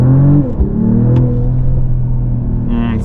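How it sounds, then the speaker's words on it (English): A Mercedes-AMG GLE53 hybrid coupe launches from a race start, a loud engine roar with a rising tone that shifts and settles into a sustained, strong drone heard from inside the cabin. "Let me also demonstrate you the race start."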